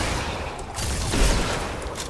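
A quad launcher fired at the floor in a Fortnite zombie island creative map: a rapid run of muffled explosive blasts close by, dense and continuous for about two seconds.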